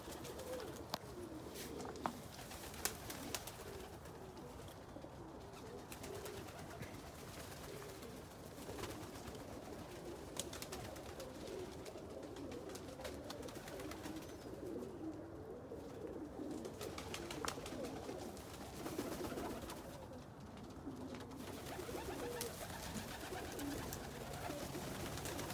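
Almond homer pigeons coo softly and repeatedly somewhere at a distance, faint under steady outdoor background noise, with no talking.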